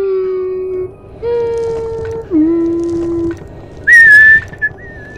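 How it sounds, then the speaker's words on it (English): A person whistles and hums sustained tones to steer the One Hand Clapping game, a few held notes stepping between pitches with short pauses, the last one whistled higher and brighter, close and loud with no speech. "A combination of whistling and humming makes it all better because I apparently don't have much of a range."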